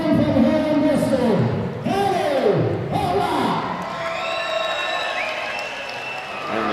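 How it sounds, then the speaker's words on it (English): Loud crowd at a boxing match applauding and cheering as a Bristol boxer walks into the ring, with whoops and shouts over steady clapping, and a commentator's voice carrying across the noise. "And the applause goes up for Danny Butler, making his way into the ring now"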